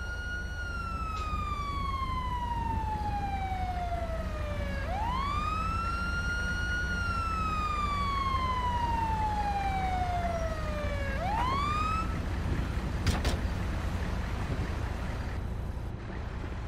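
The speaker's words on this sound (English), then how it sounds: "And you'll see the ambulance coming in." An ambulance siren in the video game GTA V wails in long, slow, falling sweeps that rise sharply and fall again, loud and steady against a constant rumbling background, with no voices.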